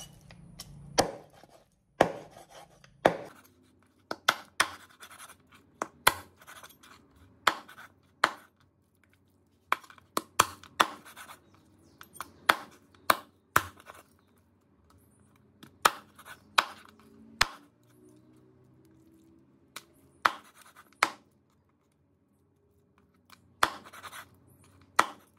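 A knife cutting through raw lamb on a board for a lamb curry, sounding as a steady series of sharp, close chops and taps spaced about a second apart, with quiet pauses between strokes.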